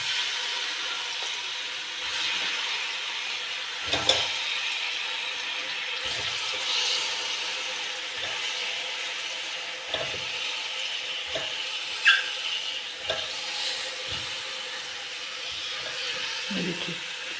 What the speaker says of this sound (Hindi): अब हम चिकन को ऑयल के अंदर डाल के भूनते हैं